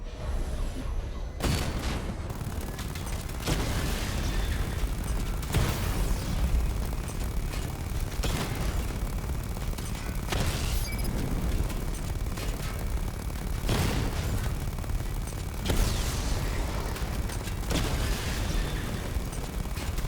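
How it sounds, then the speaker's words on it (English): Missile barrage explosions in Batman: Arkham Knight, a steady roaring drone broken by repeated sharp blasts at irregular intervals across twenty seconds, loud and continuous with no speech. "Charge the missile barrage to level 2 to destroy up to 4 targets at once."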